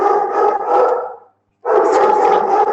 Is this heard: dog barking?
yes